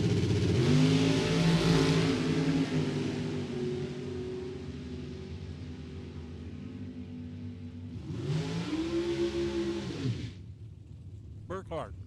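Drag racing cars, including Kent Burkhardt's Ford Power Dragster, rev and launch loudly with strong engine harmonics that fade down the strip, then a second hard roar surges and cuts off, under a commentator's voice.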